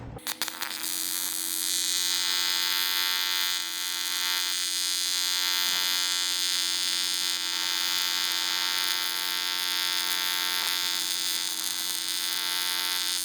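Cast aluminum being welded with 4043 filler rod gives a steady, close electrical buzzing hum that holds evenly throughout with no talking.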